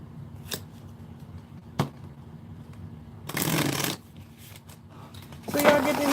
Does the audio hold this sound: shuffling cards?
yes